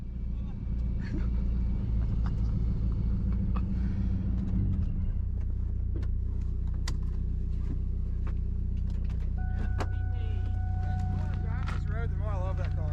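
A supercharged Mach 1 Mustang engine rumbles low and steady while driving, with road noise and rattles throughout.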